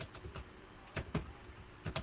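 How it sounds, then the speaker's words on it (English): Keys tapped on a computer keyboard while a question is typed out during a PL/SQL lesson: soft, scattered clicks in small irregular clusters, quiet and close, with no one speaking. "So that question I am typing here"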